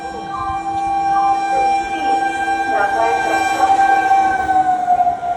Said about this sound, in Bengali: ট্রেন আসলো, তারপর চলে গেলাম।